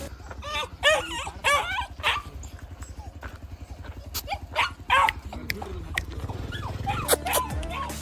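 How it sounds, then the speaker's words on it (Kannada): A dog barks in repeated sharp bursts, close by on a farm, over a running engine's low rhythmic idle, with brief voices mixed in. "ಇಲ್ಲೊಂದು ನಾಯಿ ಐತಿ"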